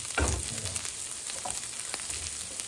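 Onion hits a pan and starts to fry, with a soft thump and low rumble at the start settling into a faint, steady sizzle with scattered light crackles, close but quiet.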